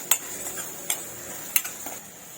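Spices being stirred into onions in a pan for a Malvani raw jackfruit bhaji: a few sharp metal spoon scrapes and clinks spaced over a couple of seconds, close and fairly quiet, with a faint steady hiss beneath.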